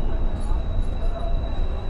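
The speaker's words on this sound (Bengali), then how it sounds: "ট্রেন চলার সাথেই শুরু হলো আমাদের এবারের ট্রেন জার্নি" The Howrah-Patna Jan Shatabdi Express runs with a continuous low rumble and a steady, fairly loud roar, as heard from inside the moving train.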